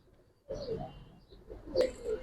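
Giribaz pigeons give soft, low cooing calls close by, a few rounded coos rising and falling with brief pauses, plus a sharper flutter or call near the end, no talking.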